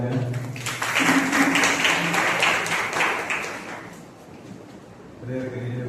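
A church congregation at a Sunday service applauds a couple's wedding anniversary, a dense burst of clapping that swells for several seconds and then fades as a voice resumes.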